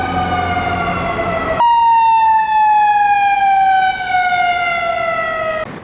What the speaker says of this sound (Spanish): Como toda ciudad estadounidense, las sirenas pululan, pero algo debe haber pasado acá cerca.